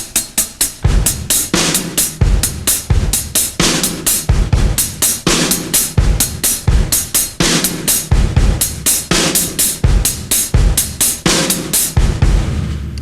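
A drum kit plays a steady groove of sixteenth notes on the hi-hat with kick and snare, loud and close, every stroke crisp and evenly spaced, no voices.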